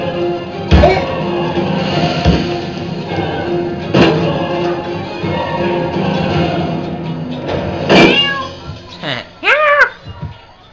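Several cats meowing in the video game South Park: The Stick of Truth, with loud drawn-out yowls near the end and scattered thumps and game noise throughout.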